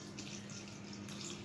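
Water pours steadily into a bowl of besan batter with potato, a continuous close, even splashing gush with no talk.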